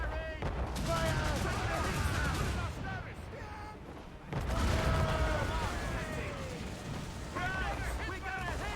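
Cannon fire from enemy ships during a naval battle in Assassin's Creed Rogue, heavy booming blasts and gunfire rolling through a dense, loud battle mix with shouting crew voices throughout, a brief lull midway before the barrage resumes.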